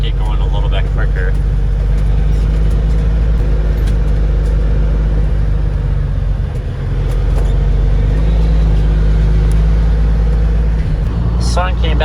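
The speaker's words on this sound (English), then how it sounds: "I'm gonna run the truck through the woods here and get going a little bit quicker" A farm truck on a Michigan corn harvest, driven along a woodland trail, gives a loud, steady low engine rumble close by from start to finish, with a voice talking over it.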